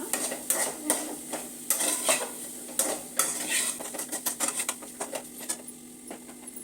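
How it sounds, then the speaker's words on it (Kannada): Maggi noodles with fried egg stirred in a pan, a spoon clinking and scraping against the metal in quick irregular strokes over a faint steady hum, with no talking. "ಈಗ ಚೆನ್ನಾಗಿ ಮಿಕ್ಸ್ ಮಾಡ್ಕೊಳ್ಳೋಣ"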